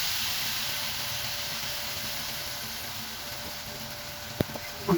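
Ghavan rice-flour batter sizzling on a hot pan, a steady broadband hiss running evenly throughout, with a couple of faint clicks near the end and no talking.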